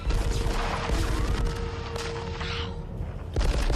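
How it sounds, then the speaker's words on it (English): Several sharp gunshots and booming blasts from the 1988 film Die Hard ring out in quick succession amid dense noisy clatter, loud and close, ending in a brief lull before another burst. "You just heard gunfire."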